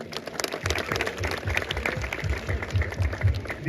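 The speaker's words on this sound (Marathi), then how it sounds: "भाऊंसाठी टाळ्या झाल्या पाहिजे" Applause for a member of a local devotional mandal at a Satana festival gathering, steady crowd clapping throughout, loud and dense with some voices mixed in.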